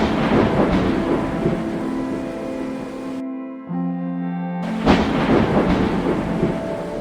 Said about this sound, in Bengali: ঝড় বৃষ্টির দিন